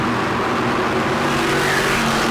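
Modified race cars at New Smyrna roar three wide down the front straightaway, a loud, continuous engine blare holding steady throughout with no pauses.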